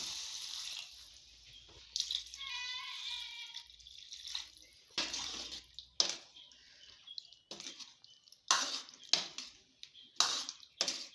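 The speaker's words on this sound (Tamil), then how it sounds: "இப்போ வந்து காய் முழுகிற அளவுக்கு நம்ம தண்ணி ஊற்றிக்கலாம்" Water poured into a pan of vegetables for kara kuzhambu, splashing and trickling in bursts with intermittent drips and pauses, close and moderately loud.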